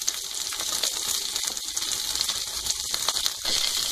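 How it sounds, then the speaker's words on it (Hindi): Mixed vegetables with cabbage and green chili fry in a pan, a bright, steady sizzle with light scraping stirs and small clicks, no talking. "उसके बाद हम बाकी सब्जियों को भी डाल करके फ्राई करेंगे।"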